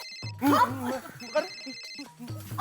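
An electronic telephone ringtone chirps in repeated bursts while people talk over it in a comedic family household scene.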